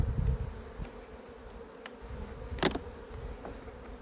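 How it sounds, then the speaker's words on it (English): Robber bees buzzing around a beehive at the end of the season, a faint steady hum with occasional louder passes as single bees fly close to the hive. "they've got some robber bees trying to find a way in"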